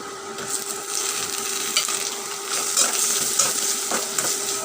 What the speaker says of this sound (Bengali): আমি দেখেন সুন্দর করে কিন্তু সব কিছু ভেজে নিচ্ছি।